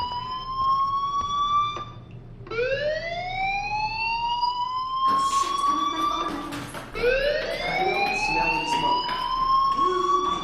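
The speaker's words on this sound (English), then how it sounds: "do you hear that fire alarm? That means you should be outside." A fire alarm in the video game Life is Strange: a rising electronic tone sweeps upward repeatedly, loud and continuous, with a harsher burst partway through; no one speaks.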